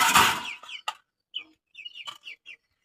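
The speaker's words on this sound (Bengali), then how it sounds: "এদিক দিয়ে মুরগিগুলো আছে" Domestic chickens in a backyard coop with chicks cluck in a string of short, close calls, beginning with a louder burst and then settling into brief, evenly spaced clucks with quiet gaps between them.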